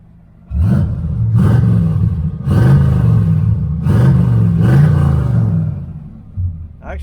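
A car engine fitted with a newly installed do-it-yourself X-pipe dual exhaust revs in about five loud, close bursts, each rising and settling back to a rumbling idle.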